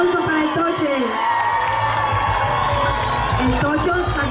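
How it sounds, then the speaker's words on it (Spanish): A festival crowd in Onzaga cheers and applauds during a presentation of pageant queens in traditional costume, a dense, steady roar of clapping and shouts with a musical tone underneath throughout. "un aplauso para el toche"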